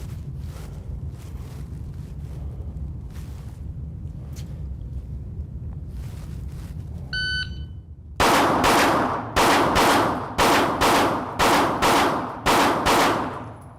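Handgun shots ring out in a live fire drill at 20 yards with a red dot sight: after a quieter wind-buffeted stretch with a beep, seven or eight sharp, loud reports follow in a quick, evenly spaced string.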